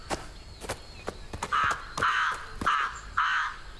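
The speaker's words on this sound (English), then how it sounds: "Hello, birds." Crows cawing in a circus-themed horror video game, four clear rhythmic caws in quick succession over faint background ambience.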